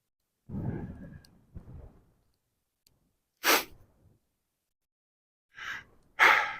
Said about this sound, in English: Walking fairly briskly, so breathing a little harder than sometimes.